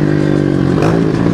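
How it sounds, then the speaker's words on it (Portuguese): Motorcycle engine revving loudly and close through an exhaust with a switchable quiet or sport mode, a rough rising growl with metallic clatter over one short burst. "Silencioso ou esportivo no mesmo escapamento, alterne ao toque de um botão."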